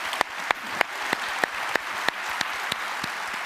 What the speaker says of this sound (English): One more round of applause for Latrice,